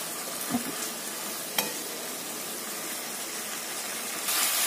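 Onion and spices fry steadily in a pan with a continuous broadband sizzle, a couple of brief stirring scrapes near the start and the hiss swelling slightly at the end; no one speaks.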